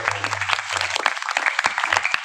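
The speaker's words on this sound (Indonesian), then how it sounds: "mohon tepuk tangan yang meriah" Applause breaks out at an inauguration ceremony for a village Ansor branch board in Jombang, Indonesia: a small crowd claps in uneven, crisp bursts while voices talk over it.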